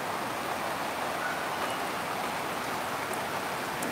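Steady rainfall heard from a house on a rooftop day, an even dense hiss of drops pattering on surfaces, constant in level with no talking.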